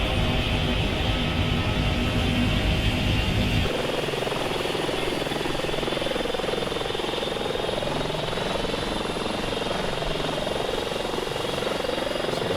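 In Microsoft Flight Simulator 2020, an Airbus H145 helicopter's left engine spools up at startup, a loud, steady turbine whine and rumble that shifts in tone partway through and then holds.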